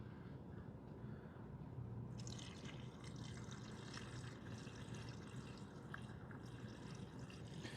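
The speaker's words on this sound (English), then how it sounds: "let's add diesel" Fresh diesel poured from a one-gallon container through a 3D-printed funnel into a sludged engine, a steady liquid trickle and gurgle running continuously throughout, close and moderately loud with no talking.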